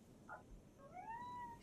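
A cat meows indoors in a pair of short, rising then falling cries, fairly close and clear over a quiet room.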